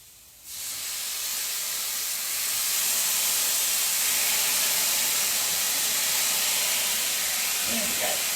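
Banana skin vegan bacon in a hot pan as marinade is poured in, a sudden loud hiss that rises and holds as a steady close sizzle.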